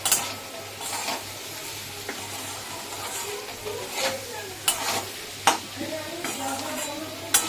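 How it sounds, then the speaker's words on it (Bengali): Crushed garlic and green chili frying in a pan, a close crackling sizzle broken by repeated sharp scrapes and clacks of stirring. "রসুন লঙ্কা থেতো করে রেখেছিলাম দিলাম এবার এটাকে ভালো করে ভাজবো"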